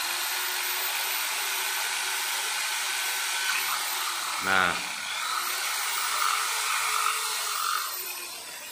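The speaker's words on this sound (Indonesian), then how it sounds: "kita bor bagian tengahnya" A steady high-pitched power drill whirs continuously throughout while drilling the center of a pipe cap, with a brief spoken word partway through and a slight change in pitch as it bites.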